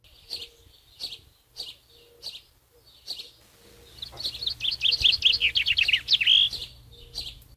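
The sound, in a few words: common chaffinch singing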